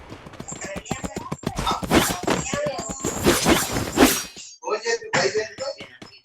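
Horse hooves clop rhythmically in a video game, a quick run of hard, close hits mixed with crashing, shattering impact effects and some voice-like game sounds, then breaking into sparser knocks near the end.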